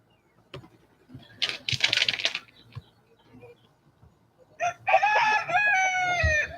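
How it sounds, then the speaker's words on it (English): Roosters crowing from a farmhouse roof, two long crows separated by a quiet stretch, with faint clucks and light tapping between them. "Roosters on the roof"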